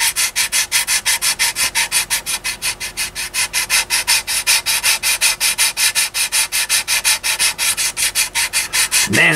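Steady rhythmic rasping of a fine-grit buffer board sanding a B-47 Stratojet scale model, quick regular back-and-forth strokes, loud and close with no talking.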